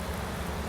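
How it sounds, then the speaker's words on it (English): Rain falling in a farming video game on the Fenton Forest map, heard as a brief, even hiss of steady rainfall with no voices. "just as it rains again. So what it might happen, I didn't realize I can cut grass in the rain."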